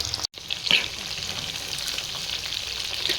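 Prawns for hotel-style prawns 65 fry in hot oil while being stirred: a dense, continuous high sizzle with a brief dropout and a few scraping stirs near the start, close and unbroken, with no speech.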